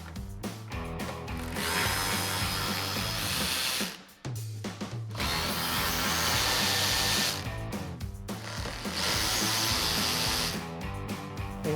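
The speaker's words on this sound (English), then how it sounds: "we're going to remove our 3 T15 Torx screws back here, and with our T15 Torx socket on our ratchet" Ratchet with a T15 Torx socket whirring and clicking as it removes three Torx screws during a WeatherTech no-drill mud flap install on a 2020-2026 Chevrolet Silverado 2500, loud and close in three bursts separated by short pauses.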